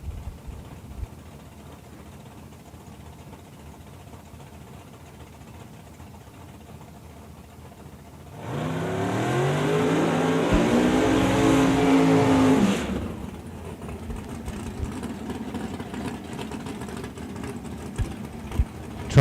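A drag race at Eddyville Raceway Park in a bracket jackpot between a Camaro and a Mustang: after quiet idling at the line, a loud engine roar bursts out for about four seconds, then fades into distant crowd and track ambience.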